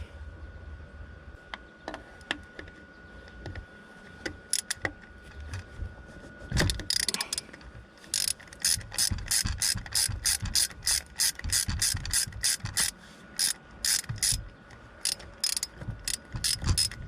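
A ratchet wrench loosens a 14 mm bolt on a MerCruiser marine engine, with rapid bursts of close, crisp clicking that grow more sustained and rhythmic in the second half, preceded by scattered metallic taps.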